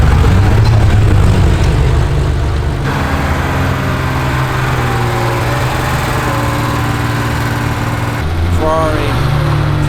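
A Lexus LFA engine runs with a steady low drone and layered harmonic tones, briefly changing pitch near the end, loud and close throughout.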